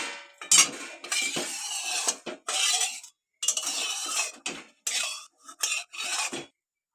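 A metal kadai wok being rinsed and scrubbed with water, close scraping and clinking in several bursts separated by short silences.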